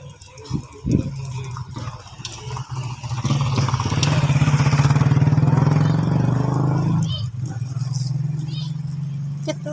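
A motorcycle approaches and passes close by, its engine swelling to a steady loud hum before fading, with brief voices and clatter around it.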